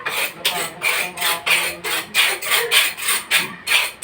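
A kitchen knife is sharpened in repeated rhythmic rasping strokes, about a dozen even scrapes close and clear, with no talk over them.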